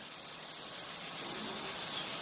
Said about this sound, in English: Lots of coal and lots of water means lots and lots of steam.